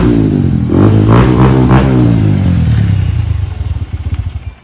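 A motorcycle engine revs hard and loud up close, climbing and falling in pitch over several throttle blips before settling into a choppy, pulsing idle at the end.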